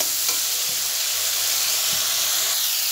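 Ginger paste fries in hot oil while being stirred, giving a steady close sizzle with a couple of brief scraping stirs.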